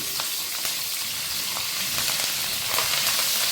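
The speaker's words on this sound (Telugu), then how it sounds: "కొద్దిగంటే అల్లం వెల్లిగడ్డ ఎందుకంటే ఆ నూనెలో ఫ్రై అయితే ఆ ఫ్లేవర్ అనేది మంచిగా వస్తుంది" Ginger and garlic sizzle in hot oil for a fish pulusu, a loud, close, continuous frying hiss with small crackles throughout and no talking.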